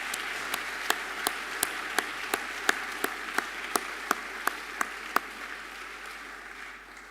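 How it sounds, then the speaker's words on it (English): An audience at a college sports awards evening applauds. A steady wash of clapping runs for about seven seconds, with one nearby clapper standing out in sharp, regular claps before the applause tapers off. "I'd like you all to join me in a round of applause for the people who've made tonight take place."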